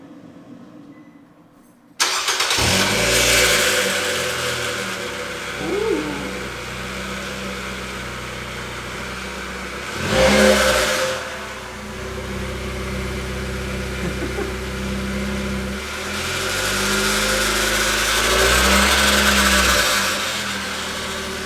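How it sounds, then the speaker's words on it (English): A Nissan Versa rental car with a muffler delete cranks and fires up, settling into a loud, raspy idle with a few rising revs, recorded close with no talking. "doing the first start with the muffler delete"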